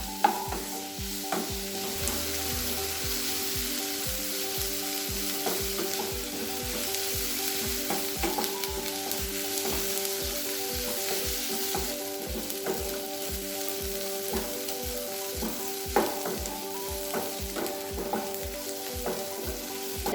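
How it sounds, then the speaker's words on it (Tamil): Onions sizzling and frying steadily with salt in a hot pan, a continuous close crackle with regular stirring scrapes throughout and no talking. "வெங்காயம் நல்லா வதங்கியாச்சு"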